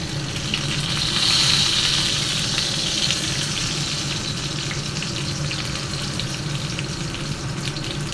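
Bora fritters fry in hot oil in a frying pan, a steady close sizzle that swells briefly near the start as batter drops in, then continues evenly.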